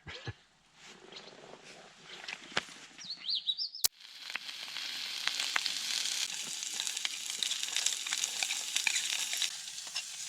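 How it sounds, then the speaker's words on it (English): Steady sizzling crackle of onions frying in a pan at a lakeside camp, with a sharp clink and a brief squeak partway through. "Frying onions."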